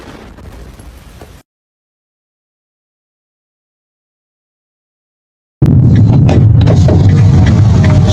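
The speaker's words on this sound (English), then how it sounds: "This man recording a video when a missile strikes." A missile strike explosion erupting after several seconds of dead silence, a sudden loud blast followed by a sustained roaring, rumbling wash of noise, preceded by a brief stretch of muffled outdoor sound.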